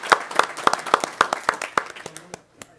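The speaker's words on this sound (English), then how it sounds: "a round of applause, folks" Close, sharp hand claps at a board meeting, at a steady rhythm, about eight in a row, then a few looser claps trailing off as the clapping fades.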